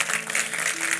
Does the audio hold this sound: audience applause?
yes